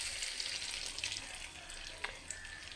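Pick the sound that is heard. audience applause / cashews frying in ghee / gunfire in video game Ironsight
cashews frying in ghee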